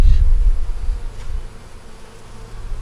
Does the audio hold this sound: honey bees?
yes